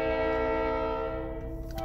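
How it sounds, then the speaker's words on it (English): A slow-moving train rolls past close by, its horn sounding as steady sustained tones over a continuous low rumble of railcars, with no talking. "there's a train coming, so I kind of lost my train of thought"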